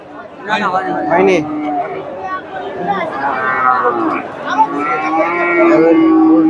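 Cattle moo loudly amid the chatter of a crowded cattle market in Bogura, with several long lowing calls overlapping the murmur of voices.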